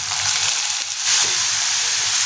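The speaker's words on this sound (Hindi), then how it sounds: "आलू को हम तब तक फ्राई करेंगे जब तक ये अच्छे से पक ना जाए" Finely chopped potato frying with onions in a pan for paneer bhurji, a steady close sizzle with light stirring scrapes, no voices.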